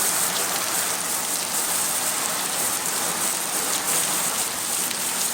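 A downpour of heavy rain falls around a home veranda, producing a constant broad roar of drops hitting surfaces, close and even throughout with no talking.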